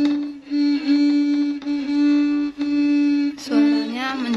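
A muted violin with a practice mute clamped on, playing sustained bowed notes, softened and close, alone with no talk, with a brief gap before a final louder bowed phrase.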